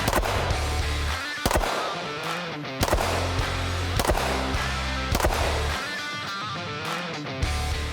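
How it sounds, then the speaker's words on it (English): Sharp, loud pistol shots from a Sig Sauer P365-FUSE, five reports spaced roughly every second and a half, each a crisp crack with a short decay into a steady background hum. "I'm going to seat a mag here, take some shots."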